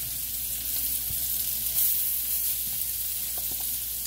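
Eight patties of ground beef sizzle loudly in a pan over medium-high heat, a dense steady frying hiss close up with occasional small pops and crackles.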